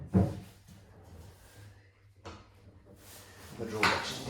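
Kitchen drawer sliding along its runners during fitting, with a soft thud, a longer scraping slide and a clattering knock toward the end, heard close up under quiet talk.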